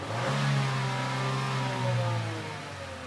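A car engine revs on a snap throttle during exhaust gas testing for catalytic converter diagnosis, rising sharply then easing back in a close, loud, smooth surge with no talking.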